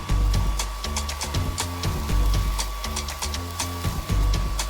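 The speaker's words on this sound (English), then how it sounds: "That's pretty powerful for a blowdryer." A hair dryer is rigged as a vacuum to suck up a mess, giving a loud, steady motor whine with a fluctuating roar and rough rattling as debris is drawn in.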